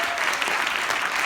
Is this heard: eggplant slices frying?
no